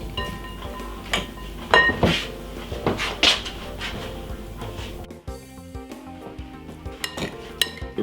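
A spoon stirs sweet chilli king prawns in a pan, with irregular scraping and clinking knocks against the metal, fairly close and moderately loud, with no talking.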